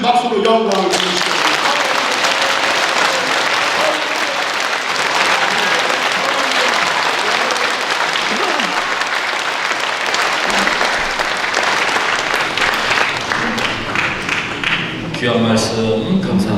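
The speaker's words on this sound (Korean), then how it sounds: "하나님 앞에 큰 박수로 영광을 드리시겠습니다." A church congregation at Jeongdong First Church breaks into loud, sustained applause honoring a national founding anniversary, dense clapping filling the space steadily for its whole length before tapering near the end.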